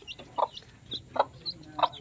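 A hen clucks in short soft bursts, with faint high peeping from chicks between them, fairly close and quiet.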